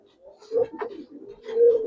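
Giribaz colouring pigeons coo in a few rolling, moderately loud phrases close by, with brief pauses between calls.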